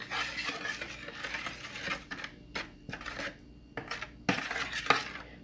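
A utensil stirs a yeast mixture in a bowl, giving quick, close scraping and clinking strokes in irregular bursts with short pauses between them.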